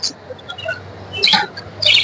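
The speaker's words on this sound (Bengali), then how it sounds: "পাখির কিচিমিচি সকালে ভোরের আলোতে পাখির কিচিমিচি খুব সুন্দর লাগে শুনতে।" Australian doves and other small birds in the morning, with soft, high chirps and twitters scattered across the moment, a few brighter bursts near the end over a low steady background hum.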